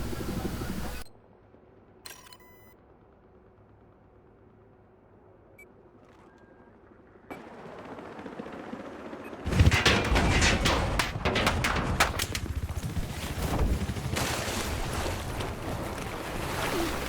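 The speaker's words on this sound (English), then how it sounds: "Nothing worse than spawning into gunfire." Loud, rapid bursts of gunfire in Battlefield 4 on the Paracel Storm map erupt partway through after a quiet stretch, continuing densely with sharp repeated cracks and booms.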